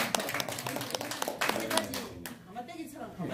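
A crowd claps together at a talk on nationalism, short and fairly loud over the whole moment, mixed with voices and room noise.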